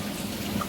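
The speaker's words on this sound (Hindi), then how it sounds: "बारिश का मौसम हो रहा है अब।" Rain falling during monsoon weather, a dense, steady patter that stays close and even throughout the short moment, with no voices.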